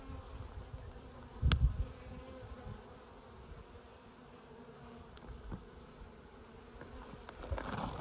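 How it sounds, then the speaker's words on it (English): Agitated honey bees drone around an open, productive hive during an inspection, a dense close buzz broken by a loud thump from the frames early on and a few lighter clicks later. "Bees are getting kind of feisty with me."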